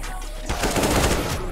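Rapid automatic gunfire from a shooter video game comes in a dense, loud burst after a short quieter lead-in and continues without a break to the end.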